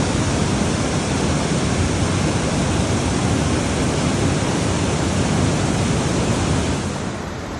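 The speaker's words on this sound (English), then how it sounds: "This is probably the most powerful waterfall I think I've ever seen, and well worth a visit if you're in Ouray." A powerful waterfall in Ouray, Colorado roars as a steady, loud broadband wash of falling water, constant and close throughout, easing off slightly at the very end.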